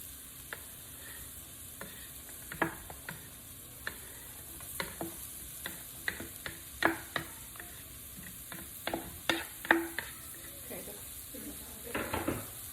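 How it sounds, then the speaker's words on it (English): A spoon stirs vegetables into a roux for crawfish etouffee, tapping and scraping against the pot in irregular clicks over a soft, low sizzle. "now we're just gonna stir"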